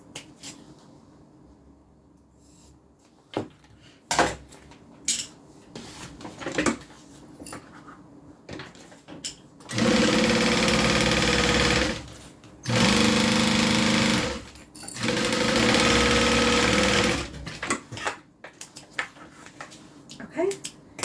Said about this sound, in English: Clip it in place. so we can sew them together.